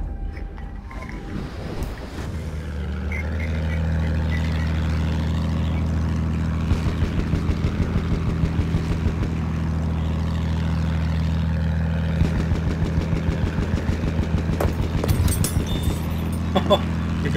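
A steady propeller-plane engine drone in Battlefield 1 holds throughout, loud and continuous, with some clicking noises layered over it.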